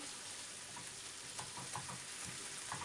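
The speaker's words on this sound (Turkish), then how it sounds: "Şimdi biraz da sarımsağımı kavuracağım. Şöyle bir iki de böyle döndüreceğim." Garlic frying and being stirred in a pan for a purslane dish, a soft steady sizzle broken by a few light scraping stir strokes, fairly faint with no talk.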